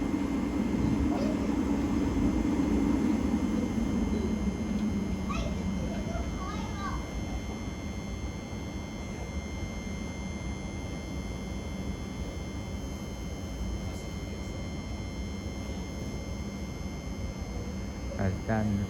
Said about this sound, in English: Now heading off is the 10:06 attempting service to Sutton from St Albans City